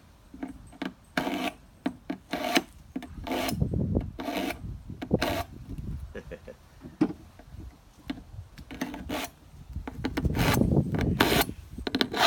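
A thick metal spatula is drawn repeatedly through a cross V sharpener, producing short rasping scrapes in an uneven rhythm, close and clear, then a longer stretch of grinding strokes, with no speech.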